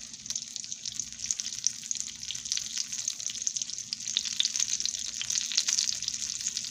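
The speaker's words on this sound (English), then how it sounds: "I would say you let them cook maybe about 3 to 4 minutes on each side." Sweet potato pies frying in a pan, a steady crackling sizzle with fine popping, close and moderately loud with no talk.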